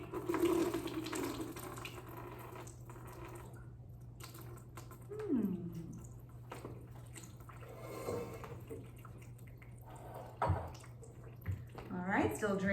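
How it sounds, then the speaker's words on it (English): Water from a 250-milliliter beaker is poured into a box and drains away, a quiet trickling and splashing that comes and goes under a person's speech. "So last beaker, 250 milliliters of water going in."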